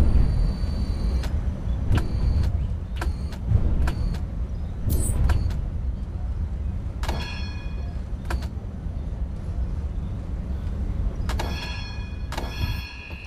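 Tram running in the City Transport Simulator game, a steady low rumble of motor and rolling wheels with repeated bell-like tonal chimes and door or window sounds over about thirteen seconds, no talk.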